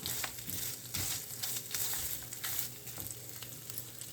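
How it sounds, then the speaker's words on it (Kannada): Grated coconut dry-roasting in a pan with a steady soft sizzle, broken by repeated scraping strokes of a spatula at a fairly even rhythm, close by and alone with no voices. "ಚೆನ್ನಾಗಿ ಕೆಂಪಗೆ ಇದನ್ನು ಹುರಿದುಕೊಳ್ಳೋಣ."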